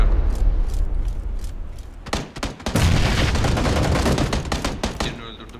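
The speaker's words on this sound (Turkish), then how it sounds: "Bomba attı." A grenade goes off in PUBG (PlayerUnknown's Battlegrounds), a loud booming blast partway through, set among sharp gunfire bursts and heavy, continuous game noise.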